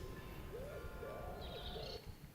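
Faint cooing and chirping of birds in a mangrove garden comes in a few soft calls over a low, steady background hum.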